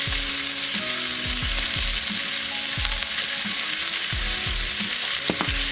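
Ground beef for lasagna fries in olive oil in a pan, a loud continuous sizzle with repeated scraping and stirring knocks from a utensil, close up.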